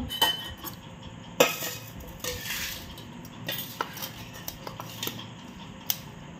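A spoon serving dal from a pot onto a plate, with a series of sharp metallic clinks and scrapes spaced irregularly over a low background, some louder knocks among softer taps.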